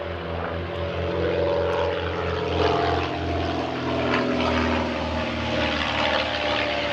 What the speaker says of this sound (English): sorry for the planes.